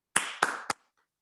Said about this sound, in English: Please join me in giving them a virtual round of applause